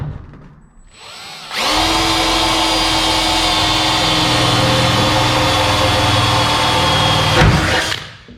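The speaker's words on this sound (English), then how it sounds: "I'll get these holes drilled" A power drill bores holes into a car hood during budget hood fabrication, spinning up after a quiet start and whining loudly and steadily for about six seconds before winding down.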